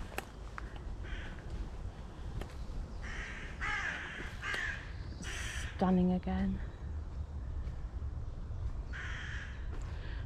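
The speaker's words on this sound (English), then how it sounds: "I'm always happy that there's crows nearby." Crows caw from somewhere in a bluebell wood, a few harsh calls rising over a steady outdoor hush, with one nearer burst of caws in the middle and a person speaking briefly.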